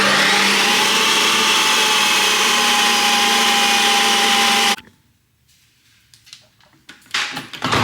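A countertop ice cream machine spins on its light ice cream setting, giving a loud steady whirring hum for several seconds that stops abruptly, followed by quieter clicks and handling noises.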